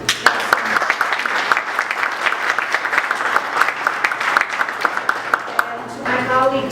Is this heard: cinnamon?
no